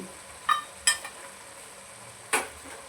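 A spoon stirs mutton curry with turmeric and chilli powder in a pan, giving three brief, sharp scrapes and clinks against the pan over a faint, low background.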